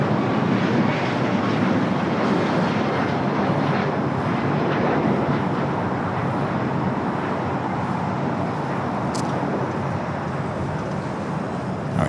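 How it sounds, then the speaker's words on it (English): An Airbus A380 airliner passes over LAX with a continuous broad jet roar that stays fairly steady and moderately loud throughout, with no voices on top. "got the A380 heading to the north side"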